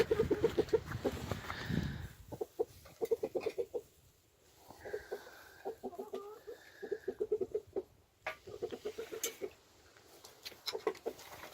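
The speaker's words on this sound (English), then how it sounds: "he'll start clucking and chirping and telling the girls chow's on" At feeding time a rooster and his hens cluck in bursts of rapid, rhythmic calls with short pauses, nearby and fairly quiet.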